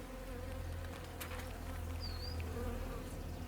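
Honeybees buzzing steadily at close range around an open brown hive during an inspection, a dense continuous hum with one bee briefly whining past the microphone.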